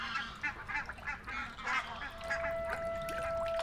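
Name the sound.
geese honking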